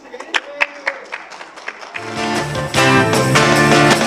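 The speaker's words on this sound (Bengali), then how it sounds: "সবাই একটা জোরে হাততালি দেন প্লিজ।" Scattered audience claps ring out at an evening monsoon-themed concert, a handful of sharp separate hits, before a band's music swells in and takes over.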